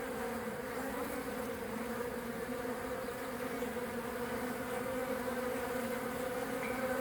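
Honeybees, drones or worker bees, buzz in a close, steady swarm drone that holds evenly for several seconds with no voices over it.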